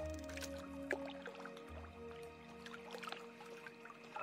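Water in World of Warcraft while fishing: quiet ambient lapping and dripping with small splashes and soft squelchy liquid movement, faint and continuous, no talk.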